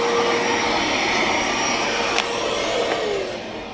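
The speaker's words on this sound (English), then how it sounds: "Alright, so we use the vacuum." Steady, loud whine of a vacuum cleaner cleaning the radiator fins of a Tesla, running continuously up close with a brief knock partway through and easing slightly at the end.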